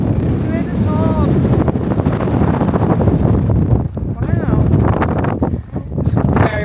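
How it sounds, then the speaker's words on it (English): Strong wind buffets the microphone atop the Malvern Hills, a loud continuous rumble and roar with a few brief voices heard through it. "It's very windy up here."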